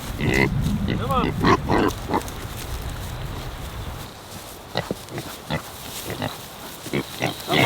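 A pig on a cold farm grunts and snorts close by in short bursts, with a person talking nearby during the opening seconds and scattered grunts continuing afterward.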